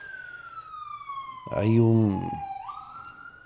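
An emergency vehicle siren wails outside, a steady sweeping tone that holds throughout, while a nearby voice briefly speaks over it midway.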